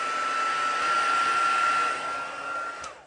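Handheld heat dryer drying embossing paste on a stamped card, a loud steady whine with a high tone running for nearly three seconds before it cuts off, with no talking.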